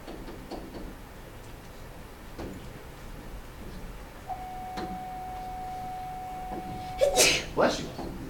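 A single sneeze near the end, short and sharp, following quiet room noise and a steady high tone.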